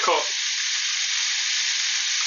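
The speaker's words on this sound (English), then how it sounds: "So I'm cooking no more than 2 burgers at a time. Just drop them in." Burgers sizzle loudly in a fiercely hot pan, no more than two patties at once, a steady broadband hiss that starts with a brief crackle as they go in and then holds constant and close with no talk.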